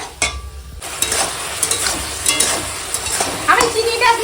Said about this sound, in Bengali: চিনিটা একদম গলে যাওয়া পর্যন্ত টমেটোটা আমি এরকম নেড়ে যাব